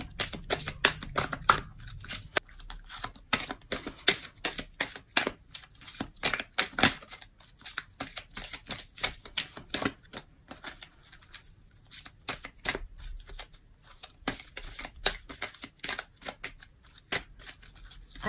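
A deck of oracle cards is shuffled and cut during a tarot-style reading, with a long run of crisp riffling and slapping card clicks, near and fairly loud, and no voices.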